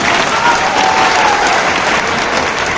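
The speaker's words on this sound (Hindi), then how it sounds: "तालियां बजाकर स्वागत कीजिए।" Applause from a large audience at a political rally in Malegaon, a dense, steady wash of clapping and crowd noise that stays loud throughout.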